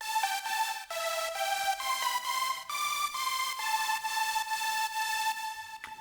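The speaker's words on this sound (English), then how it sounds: "First of all, a basic supersaw," A bright, buzzy supersaw synth lead plays a slow sustained melody, notes gliding between pitches with a rich, thick harmonic sheen, steady and alone.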